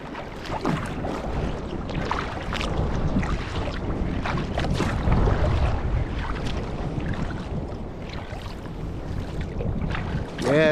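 Kayak moving on cold water with packed ice about, paddle splashes and water sloshing under gusty wind buffeting close to the microphone.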